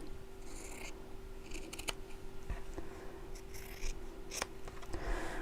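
Scissors cut through fabric for a large sewn tote bag, giving a series of close, quiet snips and rustles spread across the stretch with no talking.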